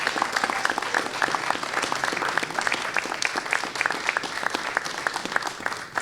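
A school board meeting audience claps for a retiring middle school staff member, a dense sustained round of applause with scattered cheers, loud and steady to the end.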